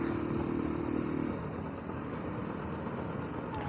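A Pulsar motorcycle rides along a hill road between Jammu and Katra, producing a continuous moderate engine hum mixed with road and wind noise, briefly stronger at the start.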